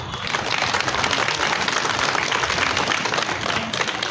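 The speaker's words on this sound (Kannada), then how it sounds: "ಆಯೋಜಕರಿಗೆ ವಿಶೇಷವಾದಂಥ ಅಭಿನಂದನೆಗಳನ್ನು ನಿಮ್ಮೆಲ್ಲ ಚಪ್ಪಾಳೆ ಮೂಲಕ ನಾವು ಸಲ್ಲಿಸೋಣ" Audience at a constitution preamble group singing inauguration in a small theatre hall applauding the organizers, a steady dense clapping throughout, loud and fairly close, with no speech over it.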